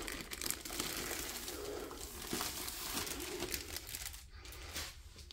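Packaging from a Diamond Art Club painting kit is torn open and crinkled in a steady run of close, rustling crackles and small rips, with no talking.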